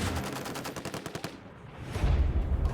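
An M240 7.62 mm machine gun fires on a range in a rapid burst of sharp, loud reports, followed by a quieter pause and then a deep, rumbling roar as firing continues nearby.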